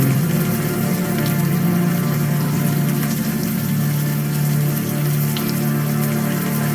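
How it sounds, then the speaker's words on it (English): Steady warm rain falls in the open air in the video game Unavowed, a dense, continuous wash of patter with a low watery hum underneath, constant and fairly loud throughout with no talking. "the warm rain is coming down"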